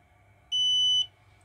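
Heat-shrink cooker timer on a Fibre Fox 6S fibre optic fusion splicer emits a single steady high beep of about half a second, loud and clear over a faint low hum, with no talking.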